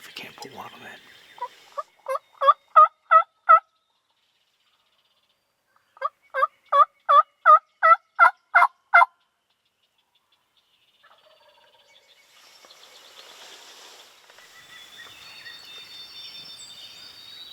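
A wild turkey gobbles in Iowa woods during a hunt, two rapid rattling series of gobbles several seconds apart, fairly close and clear against a quiet background, followed by soft rustling.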